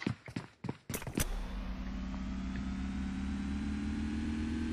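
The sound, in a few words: tractor engine idling in a video game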